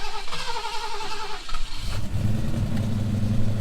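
Car engine struggling under load while reversing, a rough, labouring mid-pitched drone that drops lower and thickens partway through, close and loud.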